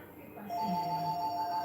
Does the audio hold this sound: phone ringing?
yes